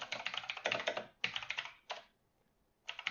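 Quick bursts of typing on a computer keyboard while writing code, clattering keystrokes in rapid runs separated by short pauses, close and clear with no talk.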